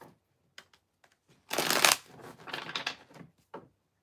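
Tarot cards being shuffled close up: a few light card flicks, then a loud riffling burst followed by a softer second run of shuffling and a final brief flick.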